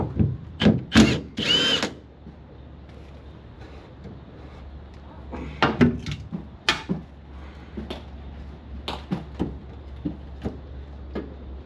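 A power drill with a socket removing bolts on a Ford XH Falcon while the rear end is lowered, heard as several short loud whirring bursts with pauses between them and clanks in a garage setting.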